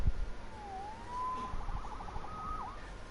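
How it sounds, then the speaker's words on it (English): A police siren wails and sweeps in pitch over a low rumble, steady and moderately loud with no voices, in a Spider-Man video game. "Saved by the siren."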